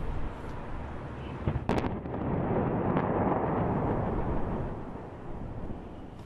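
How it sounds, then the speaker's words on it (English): Rockets launched from Gaza toward Israel amid airstrikes: a couple of sharp distant cracks, then a long roaring whoosh that swells and fades, heard faintly outdoors with wind noise and no talking. "Dozens of rockets you're seeing right now being fired into Israel"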